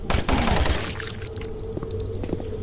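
A submachine gun fires in Doom 3, with a loud, dense burst at the start followed by a few quieter, scattered shots against a low humming background.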